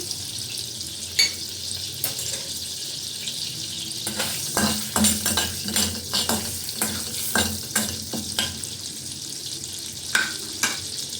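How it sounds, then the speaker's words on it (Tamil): Butter melts and sizzles in a pan with cinnamon, cloves and cardamom, a steady hiss broken by sharp, irregular scrapes and clinks of stirring that grow busier midway. "இப்போ பட்டர் மெல்ட் ஆகிட்டு இருக்கு"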